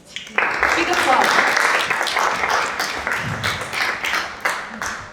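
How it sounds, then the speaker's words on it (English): A conference audience at ZKM Center for Art and Media Karlsruhe breaks into applause, a dense burst of many hands clapping that starts suddenly and then slowly tapers off, with a voice speaking over it. "Big applause."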